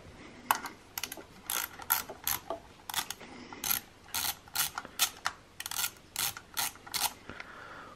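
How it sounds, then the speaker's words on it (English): A socket ratchet loosening bolts on a Ski-Doo snowmobile rave valve, a close, crisp clicking that comes in quick bursts of repeated ratchet strokes with short pauses between them. "nut driver, socket, whatever you want. Loosen those bolts."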